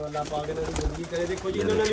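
Large pigeons coo softly nearby in low, rolling calls, partly under a voice speaking over them.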